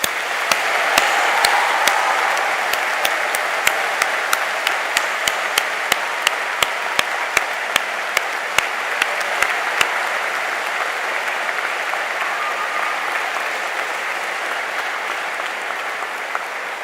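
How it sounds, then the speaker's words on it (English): Sustained applause from a large audience at a university graduation ceremony in a hall, dense and steady with sharp individual claps standing out through the first ten seconds before settling into a continuous roar of clapping. "give them a really big round of applause and lift the roof."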